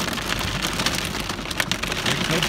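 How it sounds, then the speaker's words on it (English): Hail falls in a storm, a dense, steady patter of hard pellets striking surfaces close by, continuous and loud with no talking. "hailing"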